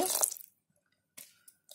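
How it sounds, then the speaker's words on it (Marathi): Water is poured into eggless vanilla sponge cake batter in a bowl: a short, close splashing pour, then near silence broken by a few small soft knocks. "पहिले त्याच्यामध्ये आहे ना थोडं पाणी घेते"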